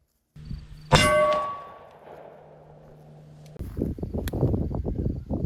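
A 185-grain Hornady Mando bullet at about 1,000 feet per second strikes a steel target with one loud, ringing clang that decays slowly, followed by a low outdoor rumble and some movement noise.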